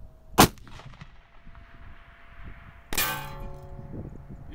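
A .300 Win Mag rifle fires once with a sharp, loud crack, and a couple of seconds later a bright ringing clang comes back as the bullet strikes a distant steel target, the tone decaying slowly.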